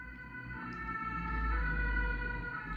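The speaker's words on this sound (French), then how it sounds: "Voilà, on a laissé passer la sirène." An emergency vehicle's siren wails steadily and swells slightly as it passes, with low traffic rumble underneath.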